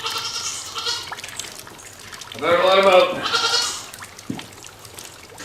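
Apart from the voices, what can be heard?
goats bleating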